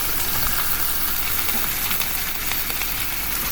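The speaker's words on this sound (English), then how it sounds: "Just making sure that it's seared evenly on both sides." Possum meat searing in a pan with chilli, garlic and curry powder, giving a dense, continuous sizzle and crackle that stays loud and even from start to finish, with faint stirring under it.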